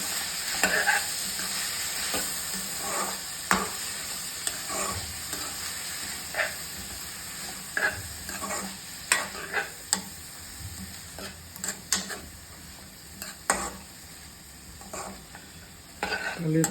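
Food frying in a pan is stirred with repeated scraping strokes over a steady background sizzle and hiss, with no voices.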